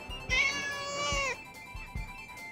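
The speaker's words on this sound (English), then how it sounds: "Here, kitty, kitty." A cartoon cat meows in Mr Bean's animated series: one long, loud, wavering meow near the start, with soft thumps before and after and no talk.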